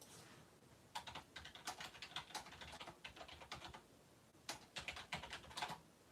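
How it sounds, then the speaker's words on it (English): Fingers typing a message on a computer keyboard in bursts of quick clacking keystrokes, faint and close, with short pauses between words and a longer gap midway. "let me type something in the chat box"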